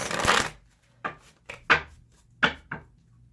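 Tarot cards being shuffled and mixed in several short riffling bursts with pauses between, close and fairly quiet, with no talking.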